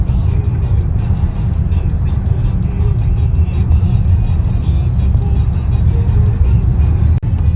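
Steady low road-traffic rumble from a queue of cars in a traffic jam at Yaremche in the Carpathians, a continuous engine hum with no distinct passes, some speech-like murmur mixed in.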